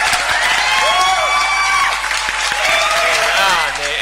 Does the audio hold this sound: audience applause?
yes